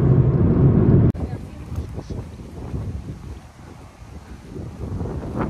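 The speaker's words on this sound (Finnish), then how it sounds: "Varmaan tuulee vähän" Wind buffets a microphone outdoors on a breezy Finnish beach at Hietasaari, a steady low rumble with gusty swells running throughout, preceded by about a second of louder, denser noise before an abrupt cut.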